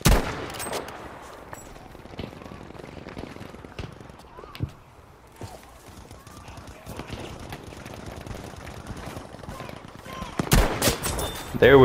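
Battlefield V team deathmatch on Wake Island: scattered sniper and rifle shots crack amid distant gunfire and battlefield ambience, with a louder burst of shots near the end.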